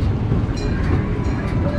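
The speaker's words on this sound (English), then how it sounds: "There's one train up, see?" A train rumbles past close by at a crossing gate, a steady low roar with faint rattling throughout.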